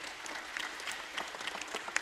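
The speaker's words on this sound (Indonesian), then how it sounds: "Tepuk tangan ini." Short burst of audience applause at a university anniversary gathering for a dakwah management program with sholawat singing, a dense crowd clapping fairly faintly from a distance.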